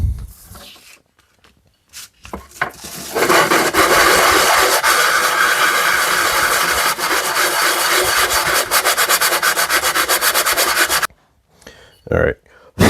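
A part from a 1955 Dodge is hand-sanded smooth with a steady, close, rasping back-and-forth scrub that runs for about eight seconds before stopping, with a few light knocks before and after.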